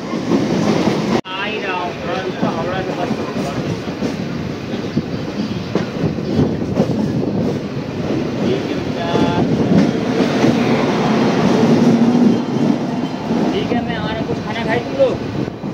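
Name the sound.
Howrah Amritsar Mail train passing alongside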